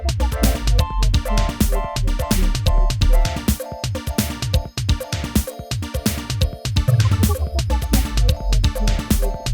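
The opening section of an electronic track arranged in Ableton plays loud and full, with punchy kick-driven drums pulsing in a steady, fast rhythm under layered synth tones and no talking.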